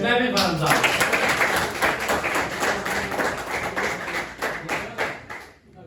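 Students in a classroom clap in a dense, fairly loud burst of hand claps lasting several seconds, with voices mixed in, before it tapers off.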